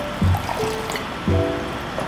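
Water poured through a man's worn sock trickles and dribbles close by in a brief, steady stream, with a couple of soft bumps as the pour begins and shifts.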